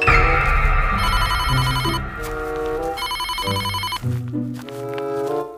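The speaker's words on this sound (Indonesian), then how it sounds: "itu ada telepon" A telephone rings with a melodic electronic ringtone, repeating bright chiming phrases loudly and close over a low background hum, without talk.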